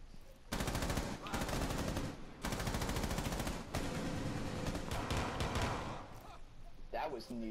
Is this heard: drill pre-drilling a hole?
no